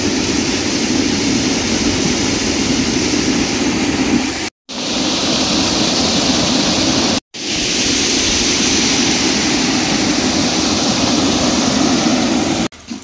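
A swollen village river rushes along in heavy monsoon rain, a loud, continuous broadband roar close by, cut by two brief dropouts partway through.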